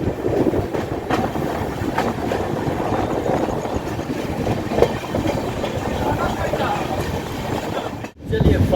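The Ganga Sutlej Express departs Kashi railway station, and its steady rumble and clattering wheels fill a sleeper coach, with voices talking faintly in the background.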